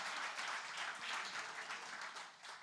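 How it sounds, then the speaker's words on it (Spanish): A church congregation claps and cheers together in a sustained burst of applause that fills a large room, steady and dense, then eases slightly toward the end, with no talk over it. "Dale un aplauso al Señor."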